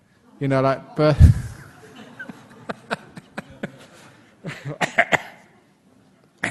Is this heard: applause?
no